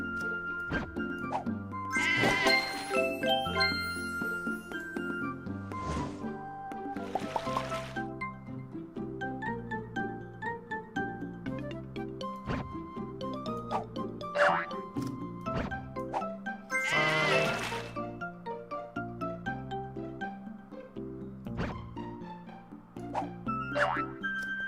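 Cartoonish sheep bleats from the puzzle video game Divide by Sheep sound repeatedly over bouncy background music, with boings, thunks and clinks scattered among the calls.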